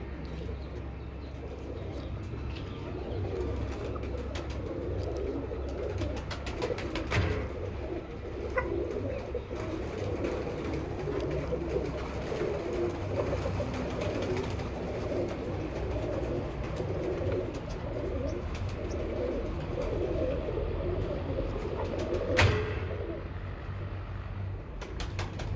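Pet pigeons cooing on a rooftop, soft repeated throaty coos close by over a low steady background, continuing throughout with occasional flutters and knocks.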